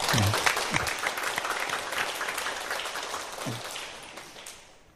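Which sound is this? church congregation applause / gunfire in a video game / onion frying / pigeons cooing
church congregation applause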